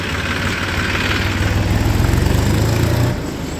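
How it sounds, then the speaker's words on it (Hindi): A tractor engine runs steadily nearby with a deep low rumble and vibration, hauling sugarcane along a road toward a mill, growing slightly louder before easing off near the end. "लेकिन मोनू ने तो कमाल ही कर दिया ट्रैक्टर भगाने में"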